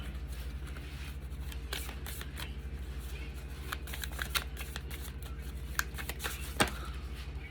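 Tarot cards are shuffled and handled under low room hum, with soft papery riffles and a few sharper slaps and flicks spread across the stretch. No one speaks.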